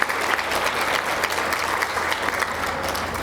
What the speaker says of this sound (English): One more round of applause, please, for health sciences.